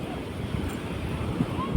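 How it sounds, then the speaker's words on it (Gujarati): Sea waves surge onto a village shoreline in a brief, continuous rushing wash of water mixed with wind buffeting the microphone, fairly close and steady, with a faint voice-like murmur beneath. "દરિયાના મોજા કેવા ઉછળે છે"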